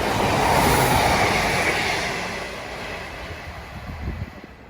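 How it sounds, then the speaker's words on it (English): An East Midlands train drawing into a station, a broad rumbling roar with steady hiss that swells loud early on and then eases as it slows, with no voices. "Right, our train is approaching"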